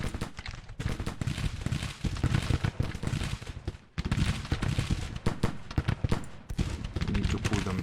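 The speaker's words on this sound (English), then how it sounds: "these cannons are gonna blast us" Booming cannon and musket fire from a Civil War battle in the far West in the strategy game Grand Tactician: The Civil War, with dense, overlapping reports and crackling volleys in an unbroken din.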